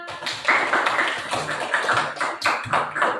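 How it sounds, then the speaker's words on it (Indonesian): Classroom applause, a short burst of hand clapping close by, with several claps in an uneven rhythm over a few seconds. "Berikan aplaus sama temannya."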